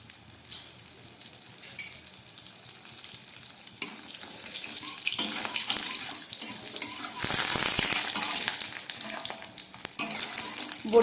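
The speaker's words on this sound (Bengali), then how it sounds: "এই তেলের মধ্যে কয়েকটা বড়ি আমি ভেজে নিচ্ছি।" Lentil badi fry in hot mustard oil in a kadai, giving a steady crackling sizzle that swells louder midway and stays busy to the end. No voices are heard.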